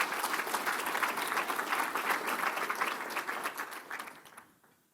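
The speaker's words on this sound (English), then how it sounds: "Let's give them a big round of applause as well." Audience applause at a Surrey and White Rock transit investment event, a dense steady wash of many hands clapping that carries for several seconds, then thins and fades out near the end.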